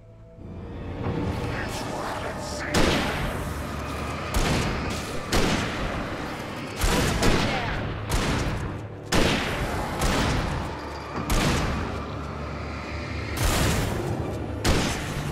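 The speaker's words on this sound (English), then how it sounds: "Rifle headshot, very efficient." Rifle gunfire in the video game Alan Wake: a steady run of loud, close, booming shots, roughly one every second or two, over a low rumbling background.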